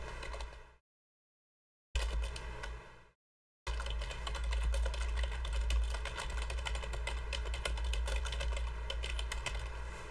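Steady typing on a computer keyboard, quick continuous key clatter after two brief silent gaps, close and fairly quiet with no talk.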